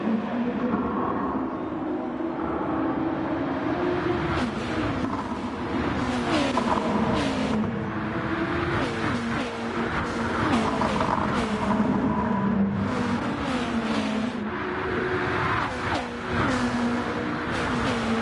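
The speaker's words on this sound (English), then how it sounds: "Top 4 cars breaking away from the rest of the field." Race cars compete at Spa, their engines droning and revving in layered overlapping tones that rise and fall as the cars run close together at a steady loud level.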